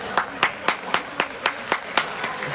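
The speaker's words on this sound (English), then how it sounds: "We got a round of applause coming from the Spartan audience" Spectators at a dodgeball tournament clap in a slow, steady rhythm, about nine crisp hand claps evenly spaced over a few seconds in a large, echoing gym.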